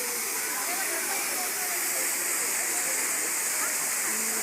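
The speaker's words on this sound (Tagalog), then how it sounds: "Ayan guys, falls. Balagbag falls." Balagbag Falls, a tall waterfall, roaring as a constant loud, dense rush of falling water close by, with a voice talking over it.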